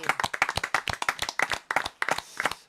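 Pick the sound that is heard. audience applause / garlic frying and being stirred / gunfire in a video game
audience applause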